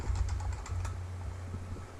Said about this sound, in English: You just type in what you're looking for